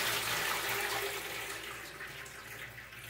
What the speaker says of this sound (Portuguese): Aí, eu vou escorrer.